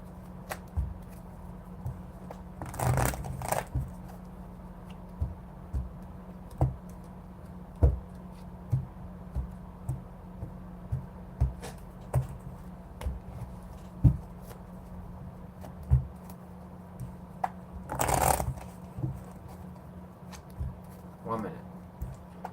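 Cards are riffled and shuffled in a few louder bursts, with scattered soft ticks and taps over a low steady hum.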